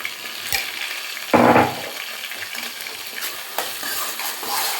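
Quail pieces frying in oil with masala in a home kitchen, a close crackling sizzle with a sudden loud burst of hissing as something is stirred or added, then settling into lighter spitting and popping.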